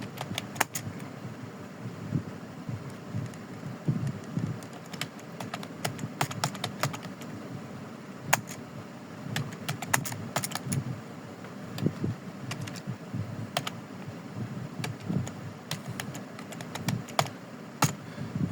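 Fingers typing on a computer keyboard while editing PowerPoint slides, a rapid irregular patter of light key clicks coming in bursts with short pauses, close and fairly soft over a faint steady background hum, no talking.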